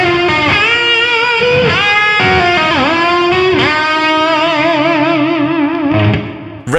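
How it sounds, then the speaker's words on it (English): An electric guitar fitted with a Vega-Trem Ultra Trem tremolo plays sustained distorted notes whose pitch wavers in vibrato and repeatedly dips and swoops back, loud and close with reverb, with no talking. "things you can expect to be able to do on this tremolo include vibrato above and below the pitch of the note, dips and pre-dips"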